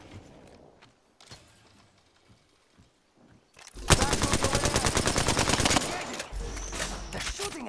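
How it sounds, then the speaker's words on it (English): Rapid bursts of gunfire from the battle royale game Apex Legends, a dense fast-firing volley of a couple of seconds after quieter moments, followed by more shots in the game's soundscape. "They're shooting at me."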